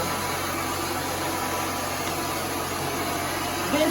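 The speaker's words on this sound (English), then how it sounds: "and then it's time to blow dry." A hair blow dryer running on high heat, a steady loud whooshing roar that holds constant throughout and stays close to the microphone with no talk over it.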